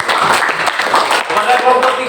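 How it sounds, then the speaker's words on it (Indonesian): Classroom applause for a student group after its presentation, a dense and steady patter of clapping mixed with voices throughout. "kita tepuk tangan dulu untuk kelompok"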